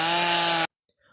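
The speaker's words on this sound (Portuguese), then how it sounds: "O barulho da motosserra é um duro golpe contra a natureza." A chainsaw cutting down caatinga trees roars loudly and steadily on its own for just over half a second, then cuts off abruptly into near silence with a few faint sounds afterward.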